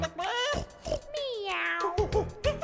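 A cat gives a few clear, close meows in a row, loud and drawn out, one long rising and falling call in the middle.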